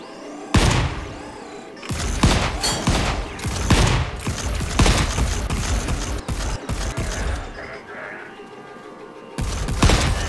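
Rapid bursts of fire from a defensive turret in the Volcanoids survival game, loud repeated volleys and mechanical clatter running through most of the stretch with brief pauses, a short voice barely present.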